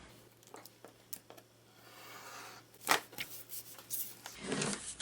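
Paper being trimmed by hand for a DIY expandable travel journal: soft scattered rustles and light cuts, with one sharper crisp snip near the middle and a fuller rustle of handled paper at the end.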